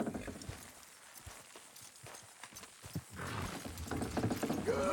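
Horses in Red Dead Redemption 2 straining to pull something down, hooves clopping in a steady uneven patter under rumbling effort noise that swells louder toward the end.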